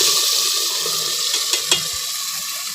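Saag being tempered with a tadka in a pan, giving a steady broadband sizzle throughout with a couple of brief sharper crackles near the middle and no talking.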